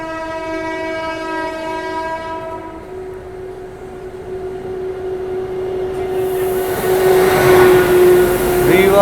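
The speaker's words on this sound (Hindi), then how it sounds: "यहाँ पर आती हुई रीवा से चलकर आनंद विहार की ओर जाने वाली रीवा" Rewa Express passenger train arriving in fog, its long steady horn blaring loud and close while the rumble of the approaching train builds underneath.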